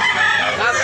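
A rooster crows at a Sunday morning gamefowl market in Tabunok, Cebu: a single loud, close, strained crow fragment, cut off quickly, with busy background noise.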